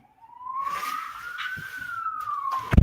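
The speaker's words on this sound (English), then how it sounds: "what's going on with the ambulance" An ambulance siren wails in one long rising and falling sweep, fairly clear and mid-distance, ending with a sharp clatter of nearby noise.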